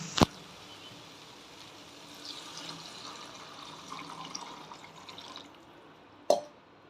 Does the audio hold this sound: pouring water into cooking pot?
yes